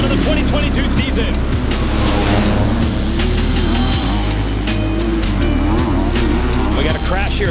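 Motocross bikes revving together at the starting gate at the opening of the 2022 outdoor season, a loud dense wall of engine roar with rising and falling pitch, under excited commentary.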